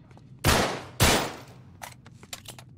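Two loud gunshots blast close together, each a sharp broadband burst, as a lock is shot in Uncharted 3, followed by scattered quieter clicks and impacts.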